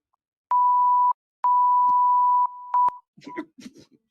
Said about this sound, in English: Tried to beep you. I tried to censor it.